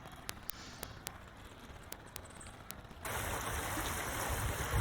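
Shallow stream water running around a small island, a steady rushing wash that grows louder and fuller partway through, with faint clicks over the flow.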